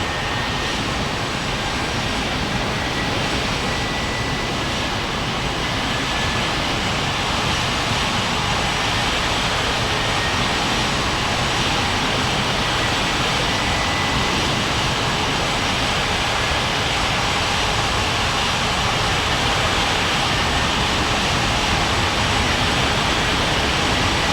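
An airliner taking off at White Center Airport in an air traffic control game, a loud, steady broadband jet engine roar that holds evenly for the whole stretch with no voices.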